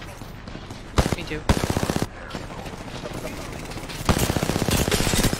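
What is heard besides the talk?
gunfire in a multiplayer shooter video game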